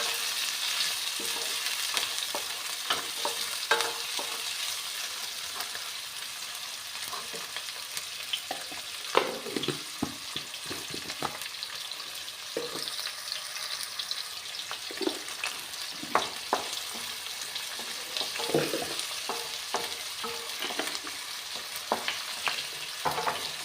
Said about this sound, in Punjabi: ਲਗਾਤਾਰ ਹਿਲਾਉਂਦੇ ਹੋਏ ਇਹਨਾਂ ਨੂੰ ਪਕਾਵਾਂਗੇ ਥੋੜਾ ਜਿਹਾ ਬਰਾਊਨ ਜੇ ਕਰ ਲਾਂਗੇ ਪਿਆਜ਼